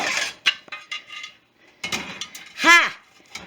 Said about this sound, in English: let's see if this pan fits in that way